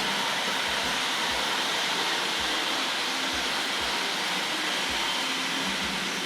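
A Tri-ang R.55 single-ended diesel model train runs along model rails with silver TC coaches, a steady close motor whir and rumble with regular soft clicks from rail joints.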